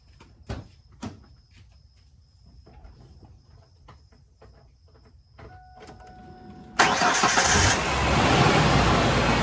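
A Ford engine cranks and fires up after a power steering leak repair, preceded by a few clicks and door-like clunks, then settling into a steady, loud idle close by.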